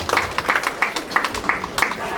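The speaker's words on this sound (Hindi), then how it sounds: "जोरदार ताली हो जाए मैडम जी के लिए" Scattered clapping from a small crowd at an engagement celebration, a handful of uneven claps over about two seconds with faint voices underneath.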